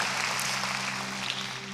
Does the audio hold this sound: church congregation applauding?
yes